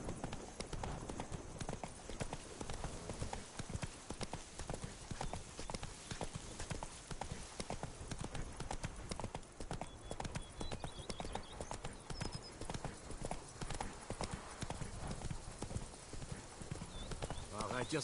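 Horse hooves clip-clopping steadily at a gallop in The Witcher 3, a dense continuous rhythm with occasional snorts, with a voice talking over it throughout.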